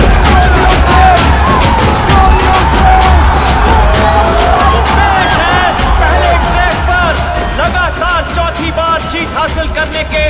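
A crowd at a racing event cheers and applauds in a loud, continuous roar, with whoops and yells rising over the din throughout.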